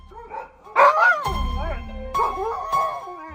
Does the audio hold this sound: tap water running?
no